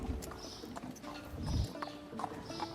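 Horse hooves clip-clop in the Star Stable horse-riding game as a sweaty horse is led back to its stable box, a steady walking rhythm of light taps over low background music.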